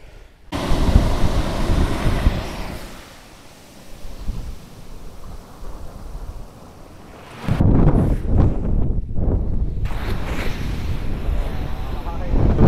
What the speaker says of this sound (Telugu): ఇక్కడ అలలు మాత్రం పెద్ద పెద్ద అలలు వస్తున్నాయి